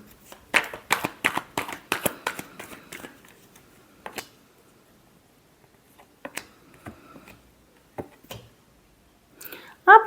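Tarot cards are shuffled by hand in a quick run of crisp riffling flicks, close and clear, followed by a quiet pause and a few scattered taps and clicks.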